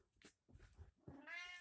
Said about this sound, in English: sorry, my cat's wigging out